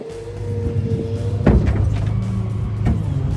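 A tow truck's bed being lowered, with a steady low hydraulic and engine drone and a couple of sharp metallic clunks, close by, with no talk.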